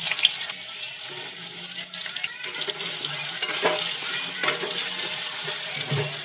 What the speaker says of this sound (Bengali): তেল গরম হয়ে গেছে, এবার দিয়ে দেবো আলুগুলো ভেজে নিতে হবে।